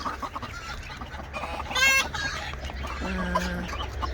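Hens on a farm raising fertile eggs give a few close, short clucks and a brief squawk, with a low background rumble and no talk.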